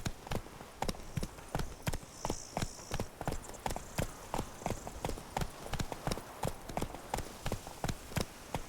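A horse gallops in The Witcher 3 video game, its hooves striking in a steady, rapid clip-clop rhythm that is close and clear throughout, with no talking.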